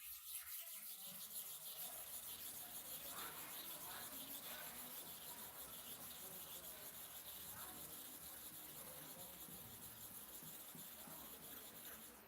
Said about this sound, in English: Now we want to sharpen here to and fro 30 times again.